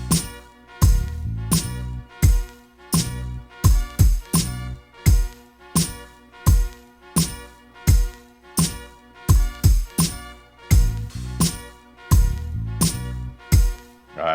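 Salsa beat's first section, made live in Isabela, Puerto Rico, with a bass line: punchy percussion hits and low bass notes repeating in a steady, syncopated groove throughout, loud and close with no voices.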